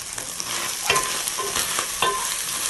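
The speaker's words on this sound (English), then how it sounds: "So just turn it like this for about 7 minutes or so." Omena fish frying over low heat, turned with a spoon, giving a continuous crackling sizzle close by, punctuated by a few sharp scraping stirs against the pan; no talking.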